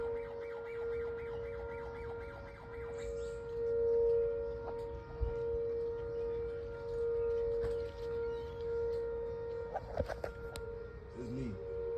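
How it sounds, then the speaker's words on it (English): An outdoor warning siren being tested in St. Louis County sounds faint and distant, a steady sustained tone drifting through the open air with slight swells and a few small nearby knocks. "Outdoor warning sirens."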